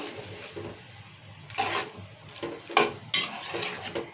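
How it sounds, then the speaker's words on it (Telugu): Chicken pieces being stirred in a cooking pot for a village-style chicken curry, with bursts of metallic scraping and clattering against the pot, some louder stirs near the end, and no talk. "ఇప్పుడు చికెన్ వేసుకున్నాం కదా మంచిగా కలుపుకుందాము"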